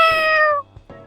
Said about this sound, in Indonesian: this is a local cat